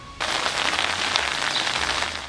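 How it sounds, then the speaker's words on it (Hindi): Pre-monsoon rain falls in southern Punjab around Multan and Rahim Yar Khan as a dense, steady hiss of drops on surfaces that starts abruptly and holds evenly, with no voices. "मुल्तान और रहीम यार खान समेत जनूबी पंजाब में भी प्री मानसून बारिशों का आगाज हो गया।"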